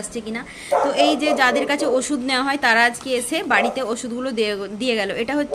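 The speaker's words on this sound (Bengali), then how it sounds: "সামনের বাড়ির কুকুরটা হচ্ছে ঘেউ ঘেউ করছে" A neighbour's dog barks and yips repeatedly in quick, high-pitched bursts, fairly close, while a person talks over it.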